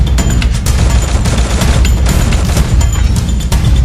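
Rapid gunfire in the video game Free Fire, dense bursts of shots and booms in quick succession, loud and continuous throughout.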